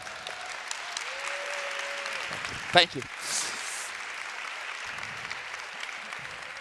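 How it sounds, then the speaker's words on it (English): Conference audience in the Aula Magna in Padua applauding at the official opening, steady moderate clapping from a hall crowd that runs under a brief spoken thanks and continues at an even level. "Let's make an applause to..."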